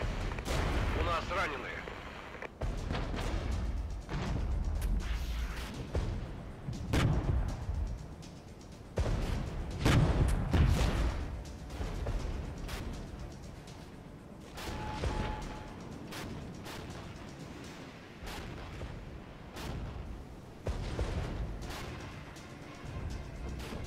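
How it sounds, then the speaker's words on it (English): Rocket artillery barrages in a strategy war game, a run of repeated booming blasts and crackling impacts spread across the whole stretch, loud and dense, with a brief tonal game cue midway. "Rocket artillery hurts."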